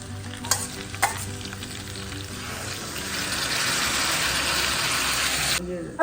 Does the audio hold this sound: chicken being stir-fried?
yes